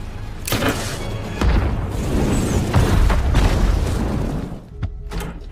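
A boat blows up in a loud, sustained explosion with repeated deep booms and rumbling blasts rolling over several seconds, dying down before a couple of sharp final cracks.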